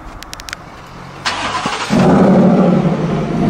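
A muddy V8 Ford Raptor truck that has been driven off-road starts up close by. A brief crank catches into a loud, deep idle rumble that holds steady to the end.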